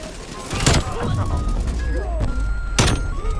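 Gunfire from an EM2 rifle in the video game Call of Duty: Black Ops Cold War, with several sharp, loud shots spaced over a few seconds while someone talks excitedly.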